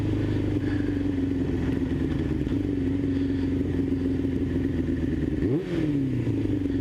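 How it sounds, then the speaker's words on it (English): Yamaha R6 sport bike engine with a fixed low-RPM sputter runs near and loud, a steady mid-pitched hum with one quick rev blip near the end, no talk. "it doesn't sputter near as much in low RPM"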